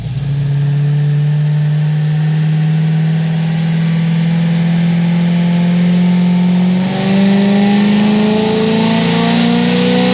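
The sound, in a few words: cammed LS3 engine at full throttle on dyno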